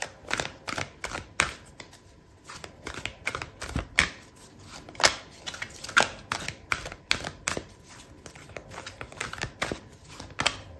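A deck of tarot cards is shuffled during a reading, giving a steady run of crisp, irregular riffles and taps, close and fairly quiet, with no voices.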